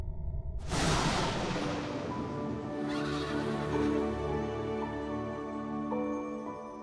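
Horses whinny loudly over a sudden whoosh and clopping hooves, suggesting a chariot setting off. The tonal neighing carries on above a rumbling, busy background.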